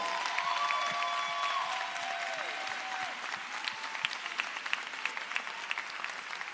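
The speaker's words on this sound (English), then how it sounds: "let's give Gary Chambers a round of applause for his leadership." A crowd at a live political tour event in New Orleans applauds in a steady, sustained roar that grows more scattered toward the end, while faint tones sound briefly at the start.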